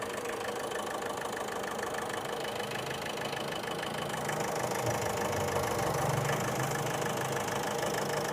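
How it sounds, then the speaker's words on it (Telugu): A 2016 Ford EcoSport Titanium diesel engine idles steadily at close range, a continuous rattly diesel hum with a slight rise in low rumble midway. "సౌండ్ అయితే చాలా బాగుంది సార్, ఇంజిన్ సౌండ్ క్వాలిటీ ఉంది ఇంజిన్"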